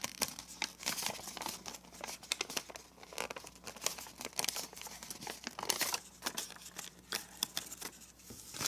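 Paper folded into a zigzag origami labyrinth, giving continuous close crinkling and crisp creasing rustles with irregular sharp crackles and no voices.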